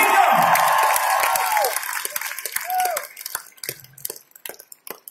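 Enthusiastic audience applause at a concert for a singer, a dense burst of clapping at first that thins and scatters toward the end, with a host's voice and brief tonal sounds over it.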